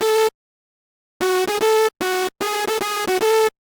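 A Fruity Masters hardstyle synth lead preset called Lead Tweaking, made in FL Studio, plays a bright, buzzy melody of short and sustained notes in choppy bursts, loud and up close with silent gaps between phrases.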